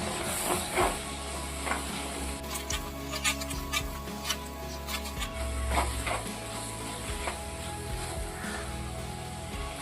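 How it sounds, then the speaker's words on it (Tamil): Chili powder sautéing in hot oil for a sardine fish kuzhambu with raw mango, giving a steady soft sizzle with occasional scraping stirs, fairly quiet and continuous without talk. "இப்போ நம்ம சேர்த்துக்கிட்ட இந்த குழம்பு மிளகாத்தூளை எண்ணெய் பிரிஞ்சு வர அளவுக்கு நல்லா வதக்கிக்கலாம்"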